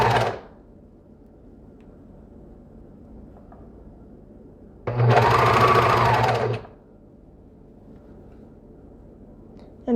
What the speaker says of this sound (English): you are going to keep sewing the strap down just by itself